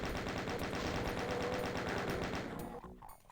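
Chaingun fire in the video game Doom II: a fast, steady stream of loud shots for about two and a half seconds, then it cuts off into fading echoes.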